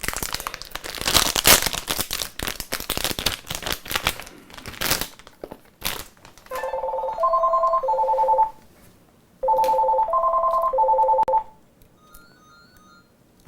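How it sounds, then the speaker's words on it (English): A telephone rings on a workbench where an FPGA is being replaced on a USRP X310, two loud bursts of warbling electronic trills with a pause between, after a stretch of clicking and crinkling handling noise. "I'm not going to answer the phone now."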